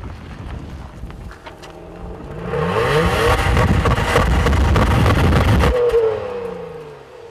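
A 2014 Honda Pilot engine with a 5-speed automatic revs from a steady idle up to 5,500 RPM, holding a loud, rising whine for several seconds before dropping back to idle, with wind noise mixed in.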